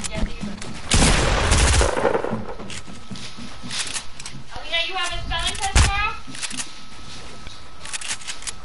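Gunfire in a block-building battle game, a few sharp bursts near the start and around the middle, mixed with other game effects while voices talk over much of it.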